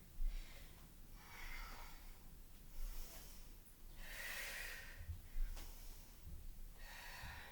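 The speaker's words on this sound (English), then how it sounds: "You can hear me breathing" Heavy breathing during a low-impact cardio strength workout, repeated close breaths and snorting exhales in a slow rhythm, faint with no talk over it.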